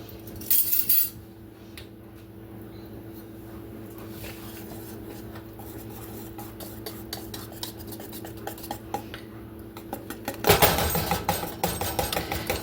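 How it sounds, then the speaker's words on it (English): Steady whisking of a powdered sugar and homemade vanilla glaze for cinnamon rolls, a whisk clinking and scraping continuously around a bowl, with a louder burst of rattling near the end. "You gotta whisk it pretty good here because get that powdered sugar incorporated."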